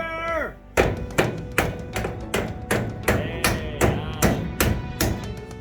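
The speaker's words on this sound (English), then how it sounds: "I'm just hammering that in to tighten up" Steel flat bar being hammered into the hat channel of a school bus roof during a roof raise, about a dozen sharp metallic strikes at a steady rhythm, close and loud.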